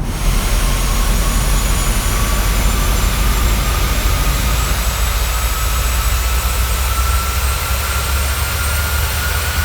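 Airliner on approach in Microsoft Flight Simulator, its jet engines a loud, unbroken roar with a deep low rumble and a faint whine that holds steady throughout, no voices.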